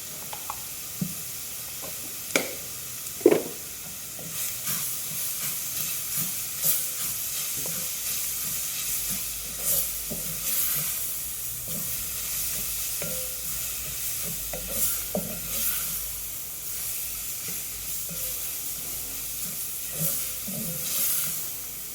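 Chopped tomato and chili powder fry in a pan for a chicken curry, with a soft, steady sizzle and hiss broken by light scattered clicks of stirring, fairly quiet and close.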